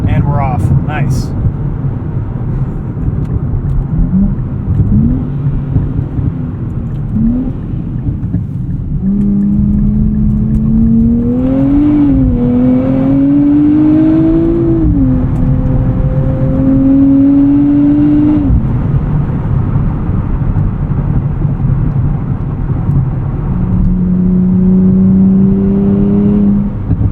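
A 2024 Nissan Z Nismo in Sport Plus mode with traction control off accelerates hard, its engine note climbing and dropping through repeated gear changes, loud and steady throughout the run.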